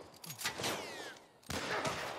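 Gunfire in The Last of Us video game, two loud bursts of shots with a brief quieter gap between them, close and sharp with no talk.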